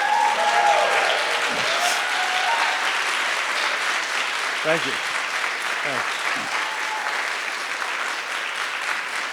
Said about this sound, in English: Let's have a round of applause for these ladies